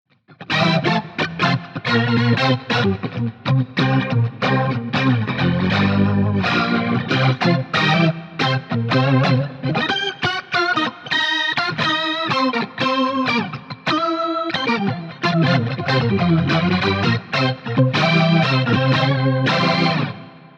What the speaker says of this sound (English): it just sounds all the more incredible with this new rotary block going down